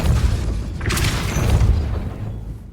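A Depulso spell in Hogwarts Legacy lands as a deep booming whoosh with a bright burst, loud and close, then fades over a couple of seconds.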